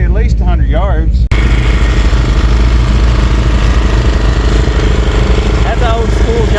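An old John Deere push mower engine runs loud and steady at close range, with a continuous idling drone throughout and voices talking over it.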